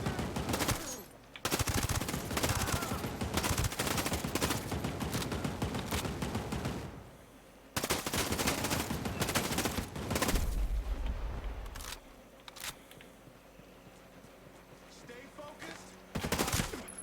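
Turret gunfire in the video game Ghost Recon Breakpoint, long loud sustained bursts of rapid automatic fire with short pauses between volleys.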